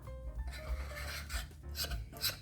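A spatula scrapes flourless cookie batter from a bowl in a series of close, rough rasping strokes, each a few tenths of a second long, with no talking.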